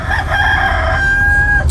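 A rooster crows loud and close in a single long cock-a-doodle-doo at a forest pool, its call rising and then holding steady over a low background rumble.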